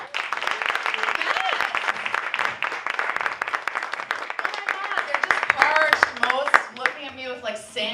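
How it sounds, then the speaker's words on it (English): Audience at a digital strategies symposium panel claps for the speakers in dense, continuous applause, with voices emerging toward the end. "can we have the biggest round of applause for our amazing speakers in the last round?"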